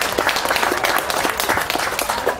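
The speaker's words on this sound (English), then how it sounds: "So a round of applause for Ambassador Stevens." An outdoor garden party crowd at an ambassador's residence applauds for Ambassador Stevens, a dense, loud, steady patter of many hands clapping throughout.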